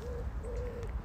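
Wild birds in a forest give soft, hooting coo-like calls, two or three short tonal notes repeating over faint outdoor background noise, with no talk.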